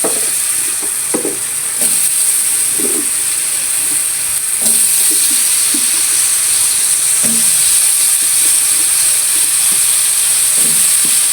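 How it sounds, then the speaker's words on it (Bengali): Potato pieces are lightly fried in a pan for a fish curry. A steady, hissing sizzle runs throughout, with scattered soft knocks and scrapes from stirring. "আলুগুলো একটু হালকা করে ভেজে নেব।"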